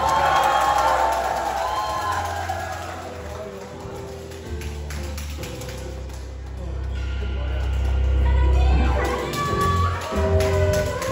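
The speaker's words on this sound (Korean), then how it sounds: "우리 여러분들 큰 박수와 함성 부탁드리겠습니다" An audience at a hospital stage performance claps and cheers, a loud swelling crowd roar with whoops that builds toward the end, mixed with a booming low rumble.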